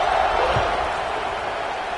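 A large stadium crowd at a college football game keeps up a dense, steady roar of murmur and cheering, loud and unbroken from start to finish.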